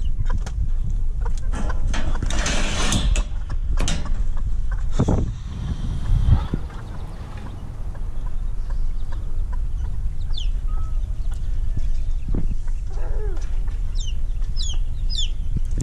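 Several hens cluck and chatter at close range, with scattered short calls and a few louder squawks over a constant background rumble.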